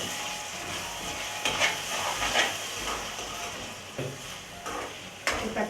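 Tomatoes dropped into a hot pan sizzle and hiss steadily, with a few louder bursts of frying and stirring scrapes along the way, close up with no talking.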